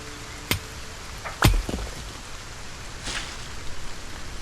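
Rain falling in the video game SolarPunk, a soft steady wash of broadband patter with a few sharper nearby thuds and clicks, no talking.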